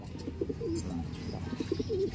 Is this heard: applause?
no